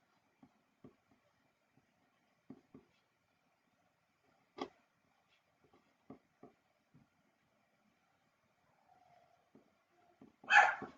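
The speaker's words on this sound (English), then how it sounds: "Excuse me if you can hear my dogs barking." Dogs at home bark faintly in short, scattered bursts from a distance, with one louder, closer bark at the very end against near silence.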